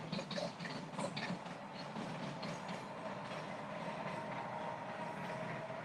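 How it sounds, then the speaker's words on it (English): A train passing at a distance outdoors, a steady rumbling roar with faint rhythmic wheel clatter that holds level for several seconds, no speech over it. "There's a train going by. Can you hear it?"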